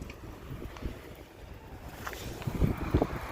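Wind blows across an outdoor microphone on a windy day, a low rumbling buffet that gusts and swells toward the end, with no voices over it.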